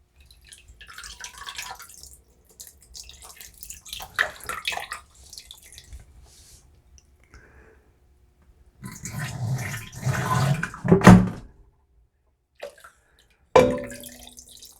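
Cranberry juice drips and splashes from mesh bags into a one-gallon wine fermenter. Scattered drops give way to heavier pouring bursts near the end, close and wet, with no talking.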